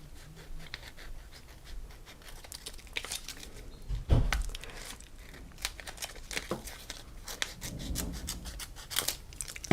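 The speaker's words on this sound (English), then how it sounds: "cut it out carefully with my scissors" Scissors cut a butterfly shape out of plastic during a craft session, with irregular snips, rustles and scraping of the sheet, plus a couple of louder bumps, close and fairly quiet with no talk.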